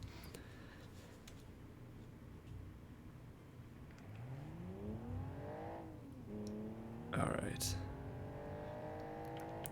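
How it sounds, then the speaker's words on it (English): A car engine in the BeamNG.drive driving game, on a neon-lit race course, revs and climbs steadily in pitch, dips and rises again with a brief clatter, staying fairly quiet while someone talks over it. "The engine noises are a little quiet. I'll turn that up in a second."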